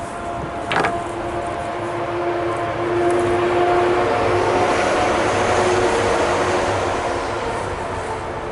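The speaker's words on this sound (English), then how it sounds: "Apologize for the noise, there's a lot of trucks going by today." Heavy trucks roll past outdoors during obsidian flintknapping, a loud continuous broadband road rumble that swells and holds steady, with faint horn-like tonal notes drifting through and no talk.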